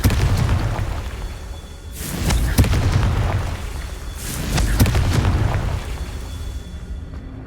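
Confringo fire spell explosions in the Hogwarts Legacy video game, two loud booming blasts a couple of seconds apart, each with a sharp crack and rolling rumble, over a low constant background.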